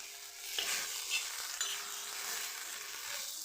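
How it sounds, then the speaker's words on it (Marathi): Cumin seeds and garlic cloves fry in a pan, a steady bright sizzle with a few soft stirring scrapes and clicks, close and moderately loud, no voices. "यामध्ये थोडेसे जिरे टाकून घेणार आहे मी आणि लसणाच्या पाच सहा पाकळ्या टाकून घेणार आहे"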